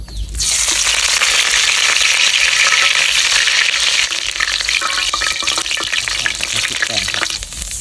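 Mulberry leaves coated in batter deep frying in hot oil give a loud, steady, dense sizzle that holds throughout with no pause.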